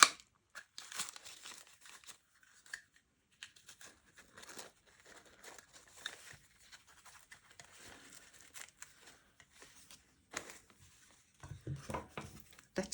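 Scissors cutting a circle out of notebook paper, giving a long run of faint, scattered snips and crinkling paper rustles, sparse and close, with no talking.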